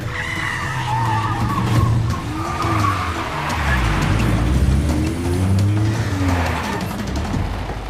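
Car skidding hard during a chase, with sustained tire squeal and engine roar rising and falling over about eight seconds, loud and close with no talk over it.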